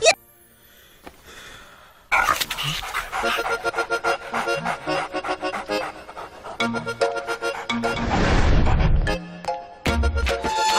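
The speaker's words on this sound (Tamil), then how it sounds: "ஓ, இந்த சீன்ல நாய் இருக்கா?" A dog in a Tamil comedy film scene pants and breathes heavily, fairly close, with whimpers mixed among the sounds of the scene.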